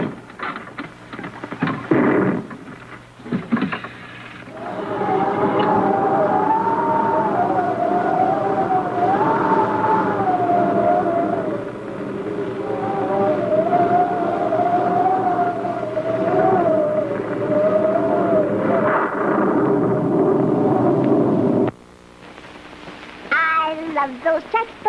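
Rockets firing as a radio drama sound effect, a sustained wavering whine over a roar that holds for around seventeen seconds and then cuts off sharply.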